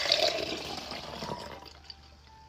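Breast milk pours from a pump bottle in a bright, gushing stream that tapers off to a few faint trickles and drips before stopping, with no talking.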